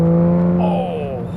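A manual Aston Martin DBS engine revving at around 4,000 RPM, a smooth tonal drone whose pitch rises then eases off over a second or so, up close and on its own.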